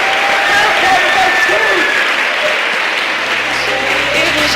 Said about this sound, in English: come on, clap it up for them